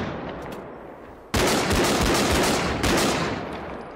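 Rapid, heavy bursts of automatic gunfire in the video game Bodycam erupt suddenly and continue loud and dense for a few seconds after a quieter stretch of distant rumble.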